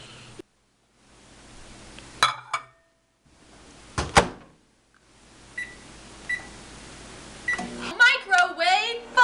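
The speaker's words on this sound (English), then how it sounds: "While we're waiting for the microwave" A microwave oven hums quietly, with a few sharp beeps and clunks along the way, and a voice chatters briefly near the end.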